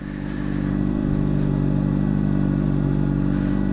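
A motorcycle creeps forward very slowly in first gear with its clutch eased out, giving a steady, close, low engine thrum with a faint clattering pulse and no change in pace.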